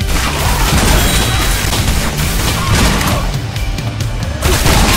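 Rapid, dense shotgun blasts from Yet Another Zombie Survivors, a zombie survival video game, form a loud, continuous barrage of booming gunfire with crashing impacts that never lets up.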